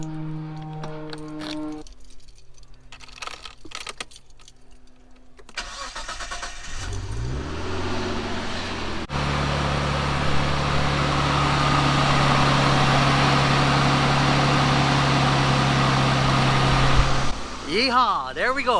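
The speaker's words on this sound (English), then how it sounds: "So let me turn on the car, see if it's charging" A Nissan Skyline R34, just fitted with a new alternator and upgraded big-three wiring, cranks and catches, then settles into a steady, loud, close idle that holds for many seconds, with a voice speaking near the start.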